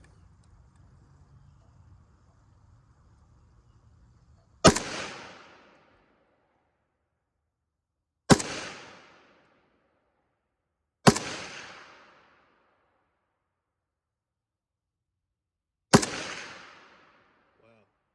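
Four sharp, loud AK-47 rifle shots ring out at a range at uneven intervals, each a crisp crack followed by a brief decaying echo, with quiet low rumble before the first shot.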